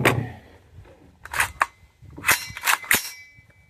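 A 3D-printed AR-15 rifle fires single shots in an irregular series, about six sharp, close cracks spaced unevenly over a few seconds, with quiet gaps between them and a faint ringing tone near the end.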